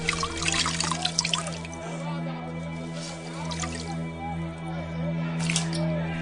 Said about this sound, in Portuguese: Lavou as mãos diante da multidão